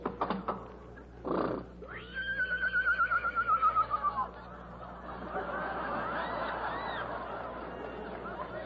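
A horse whinnies in an old radio drama sound effect, a loud, quavering neigh with rapid pulses, preceded by brief snorts and followed by a breathy rumble.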